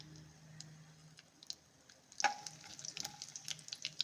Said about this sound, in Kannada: ದ್ರಾಕ್ಷಿ ಇದು ಹಾಕ್ಕೊಳ್ತಾಯಿದ್ದೀನಿ ಇದೊಂದು ಎರಡು ನಿಮಿಷ ಫ್ರೈ ಮಾಡ್ಕೊಳ್ಳೋಣ